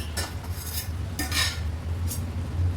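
Tomato bhaji is stirred in a pan, producing soft scrapes and light utensil clinks in a few slow strokes over a steady low hum, close by and without speech.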